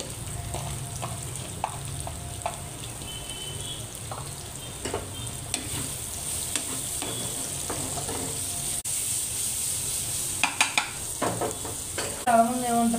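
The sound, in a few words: onions stirred and frying in oil for curry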